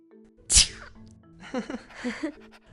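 A single sharp sneeze bursts out, followed by a couple of soft breathy vocal sounds.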